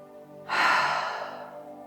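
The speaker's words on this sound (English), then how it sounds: "big inhale through the nose and let it out through the mouth" A single long, breathy exhale through the mouth during a yoga cleansing breath, rising suddenly and fading slowly, close and clear with no talking.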